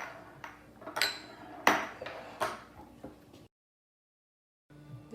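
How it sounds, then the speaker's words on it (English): A kitchen knife chops an onion on a board, giving a run of sharp, irregular wooden knocks and clacks for a few seconds, close and fairly loud, before a sudden silence and a faint return of room noise. "literally this is faster to just cut the onion and chop the onion"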